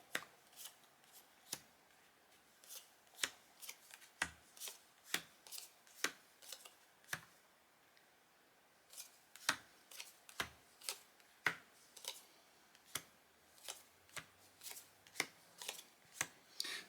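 Stiff game cards snap down one after another onto a table while a grid is laid out for a round of Wink, giving crisp, close slaps in an irregular rhythm with brief pauses between.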